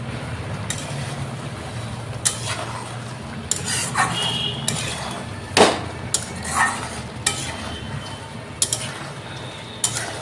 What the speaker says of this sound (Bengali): ভালো করে কষিয়ে নিব ওই মশলার সাথে।